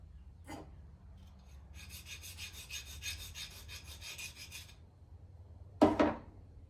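Metal being ground off a Volkswagen air compressor piston, a steady rasping scrape lasting a few seconds, with a short sharp knock near the end.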